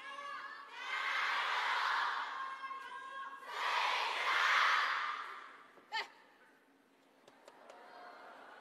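Crowd at a women's singles table tennis match cheers in two swelling waves, then a sharp burst and quieter murmuring, heard from a distance in a large arena.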